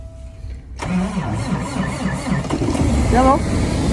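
A truck engine in extreme cold, around minus 36, cranks and catches roughly, then runs unevenly with a rising, labouring tone, loud and close, while someone talks over it.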